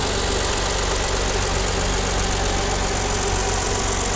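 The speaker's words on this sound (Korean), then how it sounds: "엔진 소리도 일정합니다" A Kia K7 3.0 LPI car engine idles steadily, a constant low rumble with an even hum and no other sounds.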